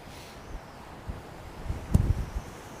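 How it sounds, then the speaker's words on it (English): Gusty wind beside the River Tyne buffets the microphone with a steady low rumble and broadband hiss, swelling into a stronger gust near the end. "It's gusty wind though."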